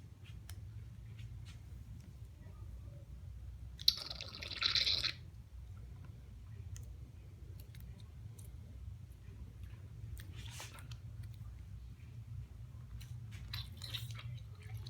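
Oil pumped out of a Fox fork FIT cartridge gives faint wet squishes and drips close by, with a brief louder gurgling spurt partway through and scattered soft squelches under a low background hum.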